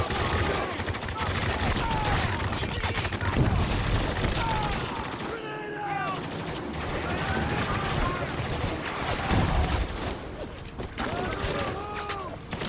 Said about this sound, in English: they're really lobbing the nades